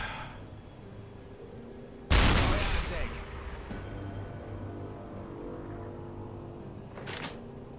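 A single loud gunshot-like blast rings out near the start, followed by a decaying rumble over steady boat-engine drone, with another short sharp crack later, on a slow-moving boat in a game.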